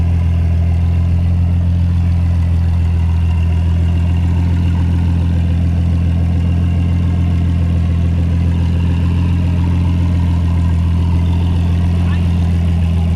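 A Toyota Supra engine idles at a steady, loud, low rumble with an even throb that holds unchanged throughout, no voices over it.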